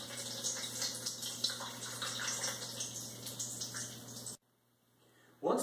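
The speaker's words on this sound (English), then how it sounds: "So we just need to drain out the water" Water drains off the top of a lake sediment core in a steady, close rushing trickle for about four seconds, then stops abruptly before a brief final splash.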